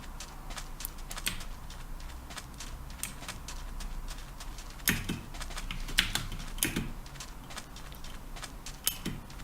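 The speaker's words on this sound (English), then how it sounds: "If the keyboard turns out to be too loud in this video" Soft, irregular computer keyboard typing clicks away at a quiet level during Minecraft play, with brief bursts of sharper keystrokes and no talking.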